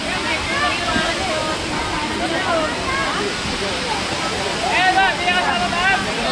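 Water rushes loudly and continuously at a river waterfall on an island, a dense roar of flowing water with voices talking over it.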